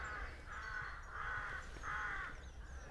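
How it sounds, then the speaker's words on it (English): Crows or rooks caw three times in an even rhythm, moderately loud over a low outdoor rumble on a hill in the English South Downs countryside. "And the crows, or the rooks"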